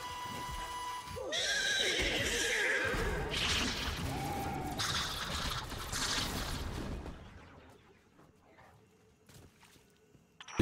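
A celestial horse from the game Destiny 2 whinnies loudly, with hoof clatter and other game effects layered around it for several seconds before the sound fades to near quiet.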